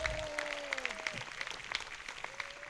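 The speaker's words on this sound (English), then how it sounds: "a round of applause" Audience applause after a post-show talk at a dance festival, a steady spread of clapping filling the clip at moderate level, with a faint voice tone drifting underneath.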